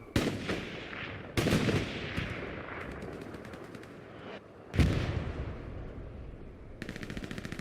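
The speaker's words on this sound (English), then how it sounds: "A shot has been ricocheted." Gunfire in the World War II shooter Hell Let Loose, in a competitive night battle at Kharkov: sharp single shots, loud booming blasts and rapid machine-gun bursts ring out repeatedly, some near and some distant.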